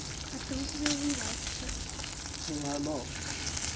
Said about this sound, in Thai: น้ำมันก็เยอะด้วยหมูสามชั้น ตอนนี้ไหม้หมดแล้ว